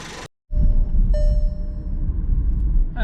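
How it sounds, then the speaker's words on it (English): A Skoda Octavia mk3 with a 1.2 TSI engine idles, just back from a fuel injector replacement. It gives a steady low rumble close by with a faint whine above it, after a short silent break at the start. "The vehicle has been working at idle for a while"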